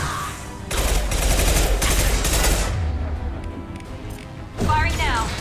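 Loud bursts of rapid weapon fire in the Mass Effect 2 video game, with a long continuous volley followed by a shorter burst, while a voice talks over the shooting.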